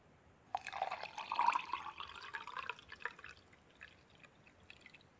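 Water is poured into a Russian military IRP ration drink mix of sugary granules, a gurgling, dripping fill in short bursts that fades after a few seconds, close and fairly quiet with no talking.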